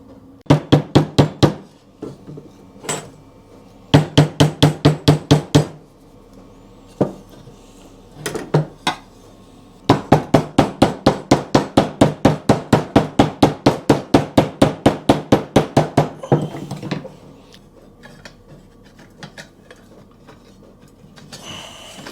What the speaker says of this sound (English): So if I tap these back in, that should do the job.